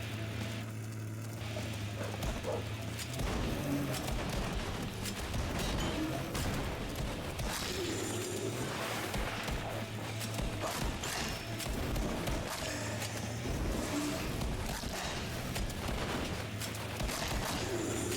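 Steady, dense gunfire in the road-combat roguelite Scaravan 66, with shotgun blasts and clattering mechanical noise layered over a constant low engine rumble throughout.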